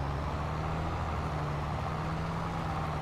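A tractor in Farming Simulator 22 runs with a steady, droning engine hum that stays even and continuous throughout, with no talk.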